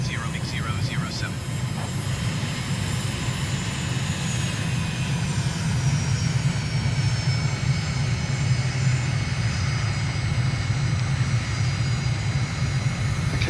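Aircraft engine roaring steadily during a takeoff roll in a flight simulator game, a loud constant drone with a faint whine layered on top, and a voice speaking early on over the noise.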